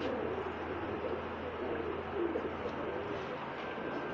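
Soft, low cooing of several Multan pigeons in a pigeon shop in Jeddah, steady and continuous against a dense murmur of background noise, with no voices standing out.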